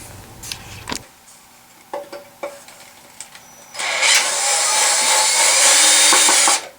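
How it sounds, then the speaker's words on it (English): A few clicks and knocks, then a power drill whirs loudly and steadily for about three seconds before stopping while drilling out holes in a spot light; close and alone. "I'm going to end up drilling them out"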